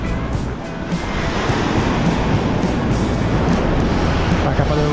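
High-tide waves surging onto a beach at Candeias, Jaboatão, in greater Recife: a loud, close, unbroken roar of surf and rushing water, steady throughout with some wind buffeting.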